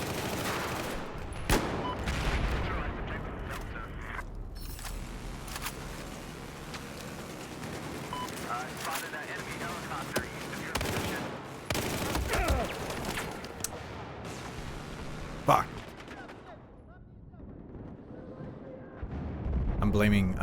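Battlefield multiplayer combat with bursts of gunfire and scattered sharp shots over a rumbling battlefield, moderately quiet, with talk heard between the shots.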